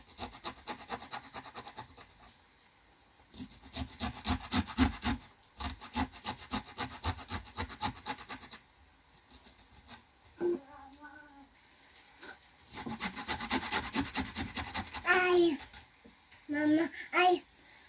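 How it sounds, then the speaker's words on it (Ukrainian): Garlic rubbed over a grater in rapid rhythmic rasping strokes, coming in bursts of repeated scrapes with pauses between, while a voice speaks briefly in the gaps. "беремо чесничок, натираємо його на терку або подрібнюємо, як вам зручно"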